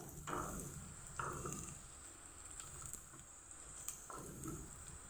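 Methi greens frying in a pan for a Bengali methi shak dish with peanuts, a soft steady sizzle broken by a few stirring scrapes and clatters at intervals, close and alone.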